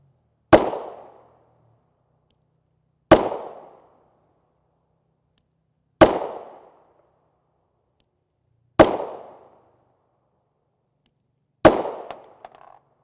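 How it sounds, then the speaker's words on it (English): A Glock 19 Gen 4 MOS pistol fires 9mm 115-grain EcoBullet rounds, five loud, sharp single shots spaced about three seconds apart, each with a short decaying echo and nothing else in between. "this is the venerable Glock 19 Gen 4 MOS"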